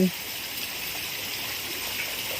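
Constant gushing rush of falling water, steady and broad, with a brief voice-like sound at the very start.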